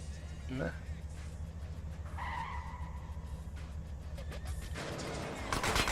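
A car in GTA San Andreas drives with a steady low engine drone and a brief tire skid, while someone talks over the game sounds throughout.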